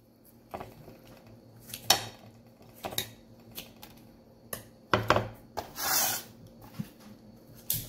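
A knife cuts into hot, freshly baked bibingka in a pan, giving a series of scattered scrapes, taps and clinks of metal on the dish, close and moderately loud with pauses between strokes.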